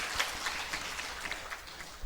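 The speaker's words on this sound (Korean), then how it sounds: "우리 하나님께 영광의 박수 올리겠습니다." A church congregation applauds to give glory to God during an Easter service, a soft, steady patter of many hands clapping at a moderate distance.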